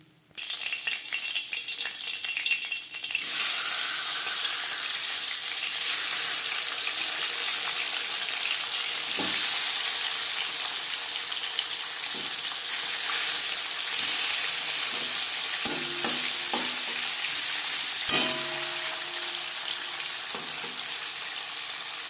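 Bhangor fish frying in oil in a home kitchen, the first batch nearly done: a steady, close, continuous sizzle that runs throughout, with occasional soft clinks and stirring sounds and no speech.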